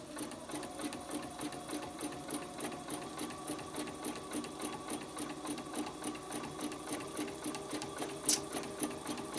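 Embroidery sewing machine stitching a spider web fill, a steady, fast rhythmic whir and clatter of the needle that repeats evenly throughout, fairly quiet and close.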